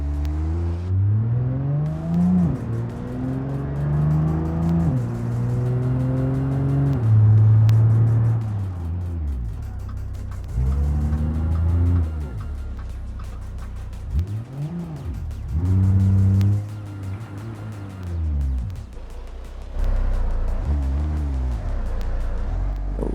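Simulated car engine in the BeamNG driving game, driven off-road in sport mode: a loud, continuous engine note that climbs and drops repeatedly through revs and gear changes, rising and falling in long sweeps with no talk.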